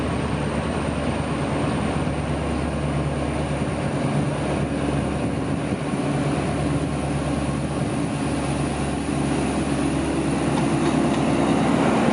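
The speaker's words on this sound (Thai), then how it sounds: "ได้ยินเสียงเร่งเครื่องมาแล้วครับ" A heavy diesel train engine revs and drones loudly and steadily as it approaches a canal bridge in Bangkok, a constant rumbling roar with no pauses.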